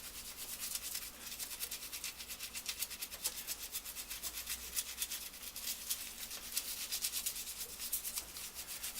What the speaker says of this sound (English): Same thing, just start giving her a scrub down.